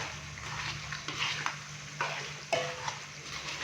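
Mutton pulao with about 150 grams of pickle stirred in a pot, a spoon scraping and clinking against the metal in irregular strokes over a soft, steady sizzle, with no talking.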